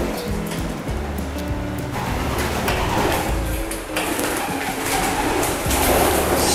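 Racing pigeons in a breeding room give deep, rhythmic cooing, repeated throaty calls close by with faint clatter in the background.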